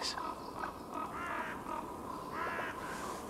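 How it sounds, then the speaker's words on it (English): Ravens call at their roost at dawn, repeated harsh croaks and caws from several birds at middle distance over a soft outdoor background. "They say that ravens have more than 30 different calls, and I can well believe it."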